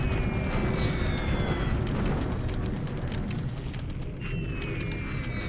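Bombing over Singapore in a Pacific war strategy game: a continuous rumble of explosions and booms, steady and dense throughout, with faint high tones drifting over the roar.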